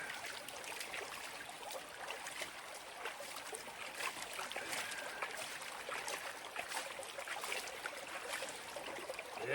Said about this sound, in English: I got the tub filled with clean water. And we'll give it some splashes.